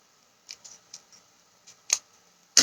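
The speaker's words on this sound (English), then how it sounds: "So I'm just going to trim along the edge of that" Scissors snip along the edge of a paper strip in a papercraft setting, a handful of short, crisp cuts spaced irregularly, close and fairly faint, the last two sharper and louder.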